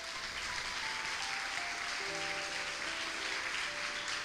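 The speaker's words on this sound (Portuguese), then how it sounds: "Aplauda o Senhor por isso." A church congregation applauds during a worship service, a steady, fairly distant wash of clapping with faint sustained instrumental tones underneath.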